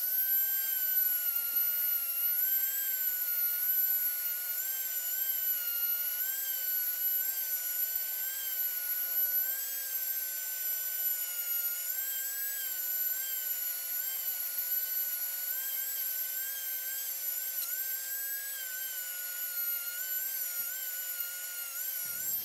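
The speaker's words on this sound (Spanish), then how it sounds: "vamos a pegarle una buena pulida, que quede al cienazo" A rotary tool whines steadily while polishing a Hot Wheels die-cast 1983 Chevy square body pickup, a high, continuous close-up buzz with slight pitch wavering and no talk.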